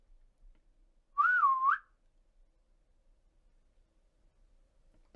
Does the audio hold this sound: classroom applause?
no